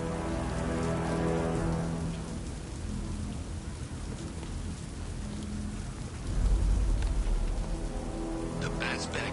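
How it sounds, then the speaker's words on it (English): Heavy rain pours steadily in the video game Batman: Arkham Knight, a dense hiss throughout with a low rumble swelling near the end. "What's with all the rain?"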